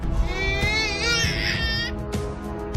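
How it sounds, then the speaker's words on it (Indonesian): An infant wails loudly and continuously in a scene from the TV series The 100, with a high, quavering cry that rises and falls over dense background sound before trailing off. "Jaha berlari menuju suara bayi yang menangis"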